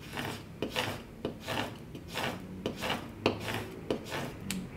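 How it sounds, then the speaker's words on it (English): A Cricut scraper tool rubbed back and forth over vinyl and transfer tape on a wood sign, making rhythmic rasping strokes about twice a second, close and quiet, with no talking. "Burnish, it just means we're rubbing it with the Cricut scraper tool so that it's gonna pick up our design."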